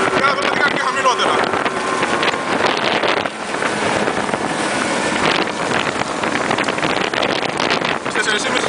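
A 2015 Evinrude 115 E-TEC outboard drives a 2004 Victor 4.85 RIB at high speed, a loud steady engine roar mixed with rushing water and heavy wind buffeting the microphone, with someone talking over it.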